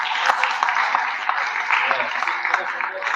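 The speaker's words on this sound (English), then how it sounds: "just give her another round of applause for this amazing." Audience applause at a talk event, a steady dense wash of many hands clapping throughout, moderately loud, with no voices over it.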